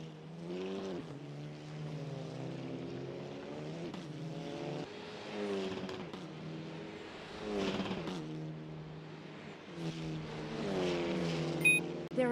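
A race car engine in a Supa Polo Cup qualifying session drones steadily through Jigskay Sweep, its revving pitch rising and falling with gear changes, heard at a moderate distance without speech.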